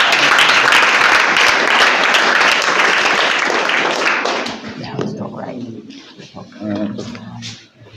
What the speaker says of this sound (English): So let's clap for him.